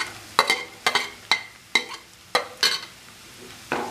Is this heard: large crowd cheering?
no